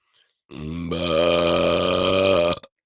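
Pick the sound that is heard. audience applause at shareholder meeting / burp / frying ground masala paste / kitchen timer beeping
burp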